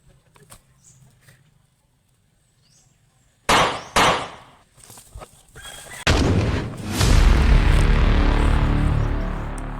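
Two sharp, loud bangs in quick succession from a sniper firecracker, followed by a sustained roaring burst of crackling blasts that fades slowly; no talking.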